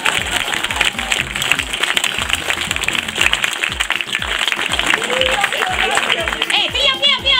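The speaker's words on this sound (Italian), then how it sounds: "Facete un applauso a Lucio Telante." A crowd at an outdoor evening show in Frattoli applauds Lucio Telante, with steady dense clapping throughout and voices and amplified sound mixed in beneath.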